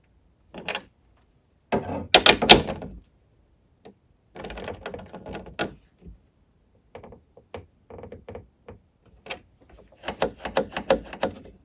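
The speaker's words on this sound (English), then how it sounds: "just test your latch" A jet ski seat latch is worked over and over, giving a run of close, sharp clicks and clunks of plastic and metal in bursts separated by short silences.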